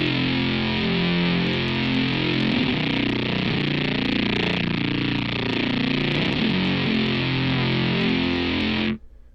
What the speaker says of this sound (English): So if we're just playing one saw lead, it will sound like this.